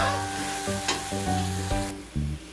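Garlic sizzles in hot oil in a pan, a steady close frying hiss with occasional stirring scrapes and clinks, and a hum running underneath.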